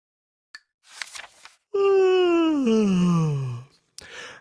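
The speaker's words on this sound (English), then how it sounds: "He stretched and yawned loudly." A long, loud drawn-out yawn that slides downward in pitch, preceded by soft breathy sounds and ending with a short exhale; a voice performing the yawn.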